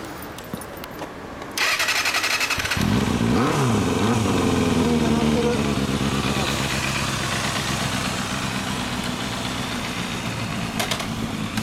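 Kawasaki Balius ZR250 motorcycle fitted with a Moriwaki collector exhaust: after a key jingle, the engine starts and settles into a loud, steady idle with a few rising revs, close by and running continuously to the end.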